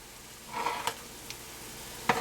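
Noodles with a half tablespoon of hoisin being stirred through pan juices: a soft, quiet sizzle that swells briefly, with a few sharp scraping clicks of the utensil against the pan, no talking.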